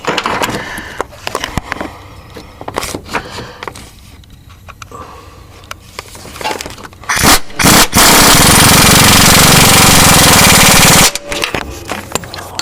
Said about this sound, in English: Get the impact.